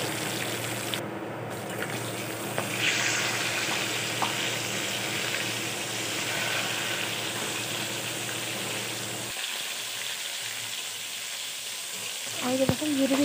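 Jhuri frying in hot oil in a home kitchen, a continuous sizzle with bubbling and stirring that drops away near the end, followed by brief clatters.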